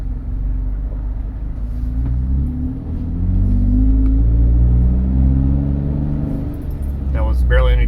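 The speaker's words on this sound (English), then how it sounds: "So we're gonna see how this exhaust sounds." A Jeep JK fitted with a custom stainless Magnaflow cat-back exhaust rumbles deep and steady as it pulls away from a stop, the low drone swelling with light throttle, with a voice talking faintly over it near the end.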